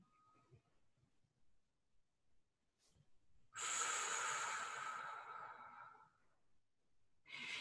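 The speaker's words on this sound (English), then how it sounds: "one more time, a nice deep breath in" A slow, deep breath drawn in and let out during a calm guided exercise, soft and close, rising into a long breathy rush of air that fades before another inhale begins, with no talking.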